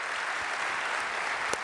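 A crowd at a public affairs event applauds a student just fitted with a new pair of glasses, a continuous, moderately loud patter of clapping with a couple of sharper claps near the end and no talk.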